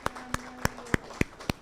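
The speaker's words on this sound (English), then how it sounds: "let's have a round of applause to Cameron for organizing this" A small audience at an open-mic reading in a museum of art claps sparsely, about six distinct hand claps spaced evenly and fairly quiet, with no crowd swell.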